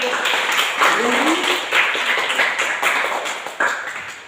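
Students clap their hands in a classroom during a volleyball basics lesson, a loose burst of scattered claps running throughout under a teacher's voice.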